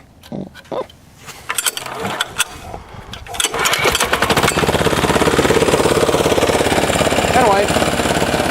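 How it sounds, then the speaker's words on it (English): A Yanmar L70 6HP diesel clone engine running steadily at roughly 2,000 RPM after a warm start, loud and close with a dense continuous chugging drone, preceded by a few seconds of knocks and handling noises. "try to do a warm start here."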